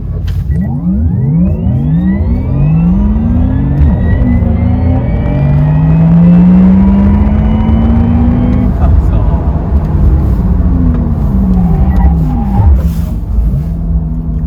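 A Porsche Taycan 4S electric sports car plays its synthetic engine sound while accelerating hard, a loud rising whine sweeping steadily upward in pitch over about ten seconds, with people talking inside the cabin.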